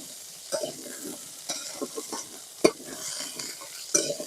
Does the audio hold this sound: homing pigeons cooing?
no